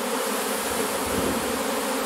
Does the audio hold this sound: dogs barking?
no